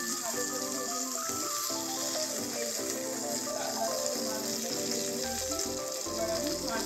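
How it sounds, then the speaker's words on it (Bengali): Pieces of bhetki fish fry in hot oil in a home kitchen, a steady broadband sizzle running throughout, with background music layered over it. "এবার মাছগুলো আমি খুব ভালো করে ভেজে নেব।"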